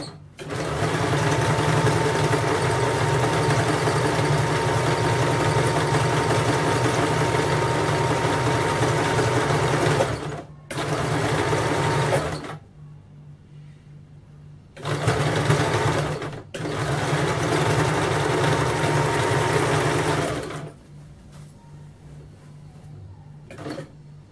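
An electric sewing machine stitches a kameez in rapid, continuous runs, stopping and restarting several times with brief pauses between bursts; loud and close, with faint background hum during the gaps.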